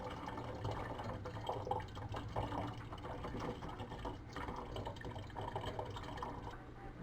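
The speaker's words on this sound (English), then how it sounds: "going to pour it off in our container." Homemade wine is poured into a container, a soft, continuous trickle and gurgle of liquid, faint and close, with small irregular splashes throughout.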